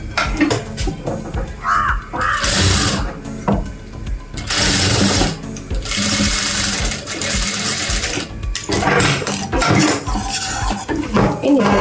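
A sewing machine stitches elastic into the waistband of palazzo pants, running in several loud bursts of whirring with short pauses between, alongside clinks and rattles of handling.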